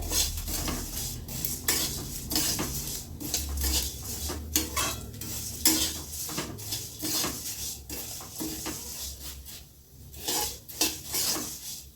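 Flattened rice (poha) with crushed curry leaves being stirred in a pan, a steady run of close scraping and clinking spoon strokes against the metal with no talking.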